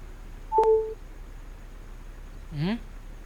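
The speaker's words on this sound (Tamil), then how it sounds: "மச்சா வெற்றி, நிறைய கால்ஸ் நோட்டிஃபிகேஷன் வந்திருக்குடா" A phone left charging gives off a short two-tone electronic notification chirp, followed a couple of seconds later by a brief rising warble of alert tones, both clear over a quiet room.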